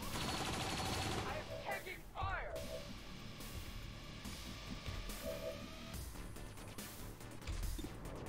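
Turret gunfire in XCOM 2, several loud bursts of shots and crashes over a busy game soundscape and background music.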